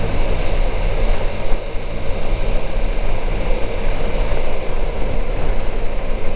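CF Moto 800MT motorcycle on off-road tyres being ridden, a loud continuous engine roar mixed with wind rush, steady and close with no pauses.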